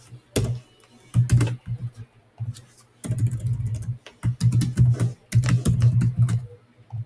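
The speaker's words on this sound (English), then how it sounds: "typing in the wrong stuff" Computer keyboard typing in bursts of rapid, close keystrokes separated by short pauses, fairly loud and alone with no talking.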